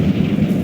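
A Confringo spell blast in the Hogwarts Legacy video game, a loud, dense booming burst that fills the short moment with no voice over it.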